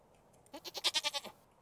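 A goat in the Stardew Valley farming game gives a run of about seven quick, evenly spaced bleats, clear and close, with no talking over them.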